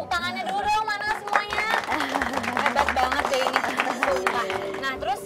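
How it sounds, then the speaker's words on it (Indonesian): Audience applause at a campus talk show, steady clapping under cheering and chatter, with voices over the top throughout. "Tepuk tangannya dulu dong, mana semuanya"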